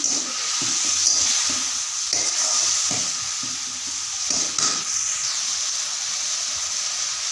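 Spice paste for fish curry frying with a splash of water in a pan, a steady bright sizzle and hiss with soft stirring scrapes and knocks underneath, close and continuous.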